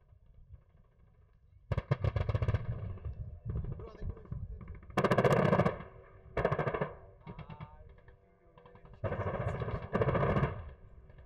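Anti-aircraft guns fire in rapid bursts during a military exercise, loud rattling volleys separated by short pauses, with voices underneath.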